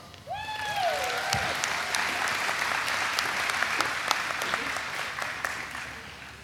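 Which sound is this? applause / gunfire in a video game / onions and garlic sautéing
applause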